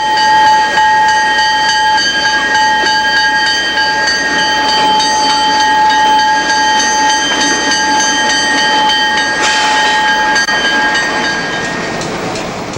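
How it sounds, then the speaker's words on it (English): A Canadian National TerraTransport freight train, Extra 944 East, pulls out of Bishop's Falls on the Newfoundland Railway. A loud, steady roar is laced with sustained whistle-like tones for about twelve seconds, easing slightly at the end. "Extra 944 East departs Bishop's Falls and crosses the Exploits River."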